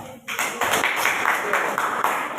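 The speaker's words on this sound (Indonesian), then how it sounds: "Oke, tepuk tangan untuk kelompok Azhar." A group claps hands together for a team in a classroom coaching session, a brief burst of quick, uneven claps starting after a short pause and continuing closely to the end, with voices mixed in.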